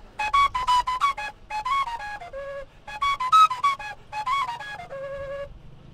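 A gaita hembra, the Colombian cane flute, plays a gaita corrida melody: bright, breathy whistling phrases in short bursts with brief pauses, clear and alone with no voices.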